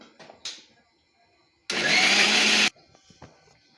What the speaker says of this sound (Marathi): आता आपल्याला अगोदर ही डाळ बारीक करून घ्यायची। डाळ एकदम स्मूथ बारीक करायची।